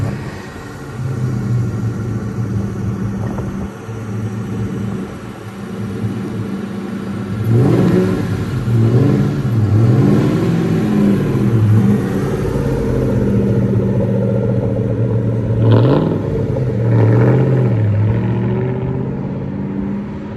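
A car pulls away at Willow Springs Raceway with its engine revving loudly, the pitch rising and falling through repeated throttle blips across a sustained rumble, with no speech.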